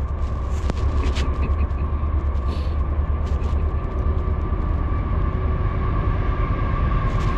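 A CSX westbound freight train passes at full throttle, a loud, close, unbroken roar of diesel engines and rolling wagons with steady rumble throughout and no horn.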